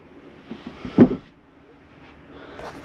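A bed-lift storage compartment in a Sunnybrook Raven 3300CK travel trailer is opened or shut, giving one near, fairly loud thump with a short rattle in a quiet bedroom.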